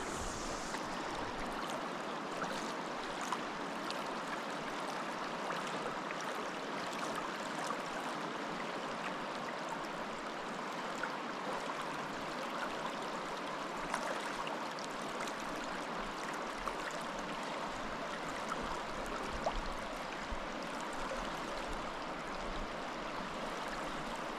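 River water flowing steadily past overhanging limbs on a steelhead fishing stream, a constant broad rushing wash with no break, fairly close and alone.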